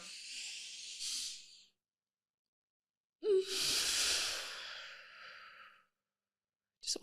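Two slow, deep breaths are exhaled gently through the mouth, each a soft, airy hiss lasting a couple of seconds, heard close and quiet with silence between them.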